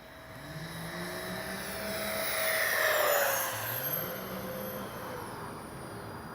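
A Freewing twin 70mm EDF AL-37 radio-control jet makes a full-speed pass, its ducted-fan whine rising to a peak mid-clip and then fading as it moves away, with steady outdoor background beneath.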